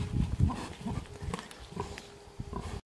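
Pigs grunt and snort in short, low bursts near the listener, with scuffling and shuffling sounds in between.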